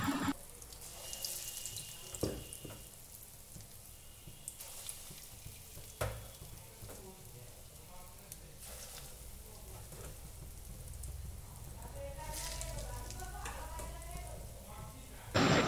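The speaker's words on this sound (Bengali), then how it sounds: "আবারও একই পদ্ধতিতে আমি বড়াগুলো ভেজে নেব।" Lentil fritters (bora) deep-frying in hot oil make a steady, even hiss throughout, with occasional soft clatter and a few louder knocks near the start and end.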